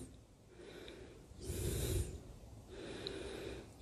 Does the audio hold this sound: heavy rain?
no